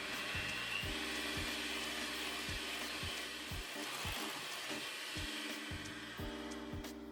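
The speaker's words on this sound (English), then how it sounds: "just give that all a good mix on a medium speed until well combined" Electric stand mixer beating lemon blueberry cake batter at medium speed, a steady close whirring motor hum with faint rhythmic pulsing as the beaters turn, running continuously with no talking.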